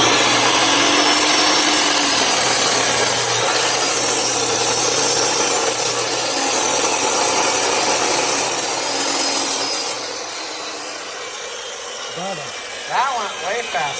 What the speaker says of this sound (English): So now we're gonna use a friggin' chop saw to get started, and then go at it with a sawzall